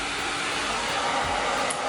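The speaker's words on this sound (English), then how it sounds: "my blow dryer like this really quick" A blow dryer running on its highest speed while drying curly hair, a close, loud, steady whooshing roar that holds constant and unbroken with no talking.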